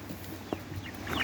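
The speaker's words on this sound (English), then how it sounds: "They're fancy chickens." Fancy chickens with feathered feet on a farm give a short, faint cluck or two over a quiet background hum.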